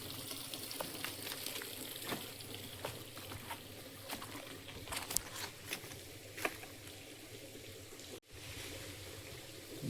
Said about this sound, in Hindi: ये पूरा पहाड़ से अंदर से रिश्ता हुआ पानी आ रहा है